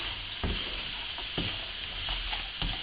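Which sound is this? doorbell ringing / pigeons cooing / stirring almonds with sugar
stirring almonds with sugar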